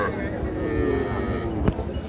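A cow gives a short, close moo at a busy livestock market where cows with calves are being sold, with voices and crowd noise around it.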